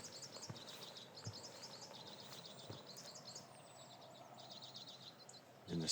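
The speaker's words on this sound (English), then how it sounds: "Do you hear that bird call?" Songbird calls in the Scottish countryside at Bargrennan on a summer morning, a repeated chirping phrase in short bursts over faint outdoor ambience, fairly quiet and distant.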